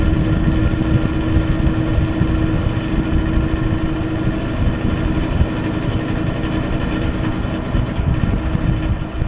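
An old electric fan with an oiled motor runs with a steady, dense drone and a constant low hum, loud and close, unchanging throughout with no talk.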